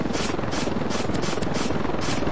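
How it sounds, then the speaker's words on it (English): Helicopter in the Ravenfield video game, a steady rapid rotor chop throbbing loudly and evenly throughout. "I think the helicopter survived this"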